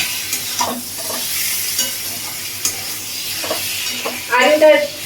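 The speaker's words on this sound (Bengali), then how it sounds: "এবার আলুটা দিয়ে একটু ভালো করে কষিয়ে নিতে হবে মশলার সাথে।" Potatoes stir-fried with spices, salt and turmeric in a pan, loud continuous sizzling broken by repeated scraping strokes of a spatula, with a brief burst of clatter near the end.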